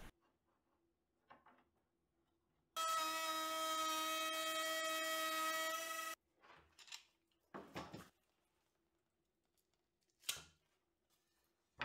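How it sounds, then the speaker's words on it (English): A router cuts new lenses for Lewmar boat portlights, producing one loud, steady high-pitched whine for about three seconds. Quiet knocks and handling clatter follow as the clamps are moved. "It's important to work against the direction of the router bit's rotation."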